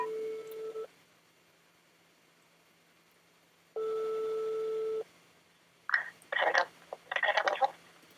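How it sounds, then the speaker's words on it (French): A French telephone line rings twice with steady tone bursts separated by silence while calling Créacard, and then a voice picks up and speaks briefly. "Je vais tenter un appel téléphonique directement à Créacard."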